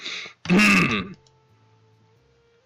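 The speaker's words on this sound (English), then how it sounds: "I clear my throat in mock disapproval of this whole business" A single throat clearing in a game scene, a short harsh rasp followed by a faint sustained tone fading out.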